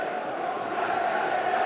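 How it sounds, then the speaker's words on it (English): A sellout football stadium crowd at Bury versus Manchester City murmurs and roars as a steady distant wash of many voices. "it's a big crowd here, a sellout crowd"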